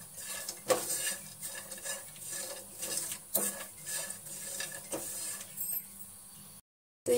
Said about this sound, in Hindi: इन सबको हम रोस्ट कर लेंगे।